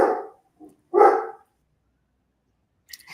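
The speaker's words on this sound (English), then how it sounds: "Sorry, my dog." A pet dog gives two short barks close by, a quick one followed by a fuller bark after a brief pause, then quiet with a faint rustle at the end.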